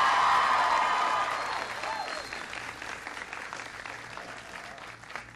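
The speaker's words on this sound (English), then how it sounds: "Give Tevin a big round of applause." An audience at a school event breaks into loud clapping that starts strong and gradually thins out over several seconds.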